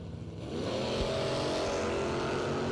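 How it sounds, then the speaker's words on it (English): Mustang drag car launching down the strip at a drag racing event, a loud engine roar swelling from a low rumble into sustained full-throttle noise as it pulls away. "The Mustang leaving in gear number 2"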